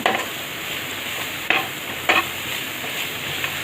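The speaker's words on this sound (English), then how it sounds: "Palak anyway gets sauteed fast." Palak (spinach), a soft leafy vegetable, sauteed in a pan with a steady close sizzle, broken by a couple of sharp stirring scrapes partway through.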